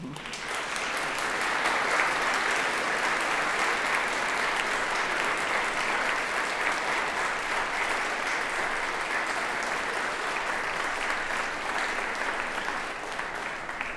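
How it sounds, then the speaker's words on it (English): Sustained, dense applause from a large audience at a ceremony thanking families and supporters, steady and even for the full stretch with no pauses. "give them an enormous thank you round of applause"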